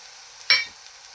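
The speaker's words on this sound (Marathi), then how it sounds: "त्याला तेलावर व्यवस्थित असं आपण फ्राय करून घेऊया" Powdered spices, homemade red chilli powder, turmeric and garam masala, drop into hot oil for a kala vatana usal and give one short, sharp sizzle that quickly fades to a quiet hiss.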